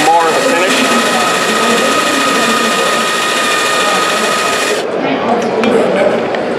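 A polishing wheel spins against metal coated in polish, giving a loud, steady whine and a rushing rub that continue unbroken, with the pitch shifting near the end.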